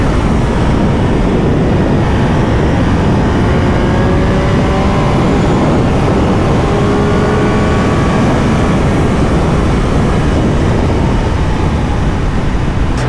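A 2025 Triumph Speed Triple 1200RS motorcycle accelerates hard, its engine note climbing steadily beneath a constant heavy roar of wind rushing past the rider.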